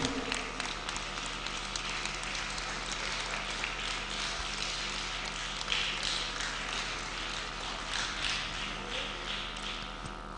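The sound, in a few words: audience applause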